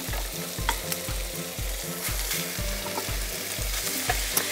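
Garlic, onions and minced meat sizzle and fry in a pan, a steady loud crackle with a regular thumping rhythm of stirring throughout, no voices.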